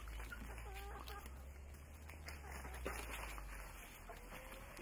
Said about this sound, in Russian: куры, слушай, кость гоняют